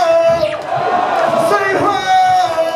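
A live hip-hop concert crowd yells "ho" together on cue, a loud massed shout that swells and fades within a couple of seconds, with the performer's amplified voice ringing over it.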